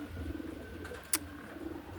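Racing pigeons coo softly and steadily in the background after a race at Honiton, with one brief sharp rattle partway through.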